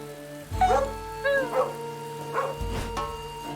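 A dog barks in a video game, a few short yips and woofs spaced across a few seconds over a steady background music bed.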